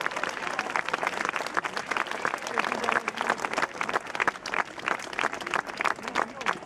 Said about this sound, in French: Je vous demande encore une fois d'applaudir nos amis musiciens, sonneurs de corps, cracheurs de feu,